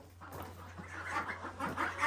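Several ducks quack and cluck softly in a steady, low murmur close by on a small farm, with faint scuffling and a constant low hum underneath.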